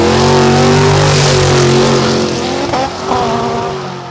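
A Ford Anglia race car launching in a legal street drag race in Odense, its engine roaring loud and close at high revs with a steady tone, then easing off as it pulls away.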